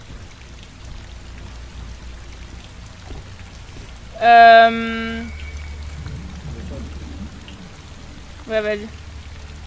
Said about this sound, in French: Attends, même la pluie nous attaque.